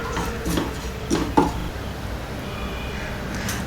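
Ground spices, including coriander powder, are stirred together in a metal pot for prawn theeyyal, making a few scraping clinks and knocks of a utensil against the pot, close and moderately loud.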